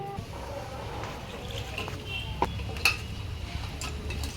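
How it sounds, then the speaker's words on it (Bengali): Lentils are being washed in a pot or bowl for dal, with water sloshing and swishing close up, punctuated by a few light clinks of the vessel. "তো ডালটা এখন আমি ধুয়ে নেব"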